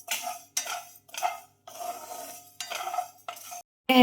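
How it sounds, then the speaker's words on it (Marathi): Spices for green chilli pickle, including fennel seeds, being dry-roasted and stirred in a pan, with close scraping and rattling strokes in short repeated bursts separated by brief silences. "असं मागे मागे भाजायचे त्यांना म्हणजे असं जाळायला पण नको"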